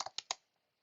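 Typing on a computer keyboard: three quick, crisp keystrokes close by, then silence.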